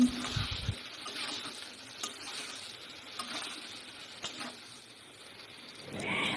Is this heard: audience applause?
no